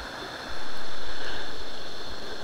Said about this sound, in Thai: นู่นครับน้ำตกลงไปด้านนู้นครับ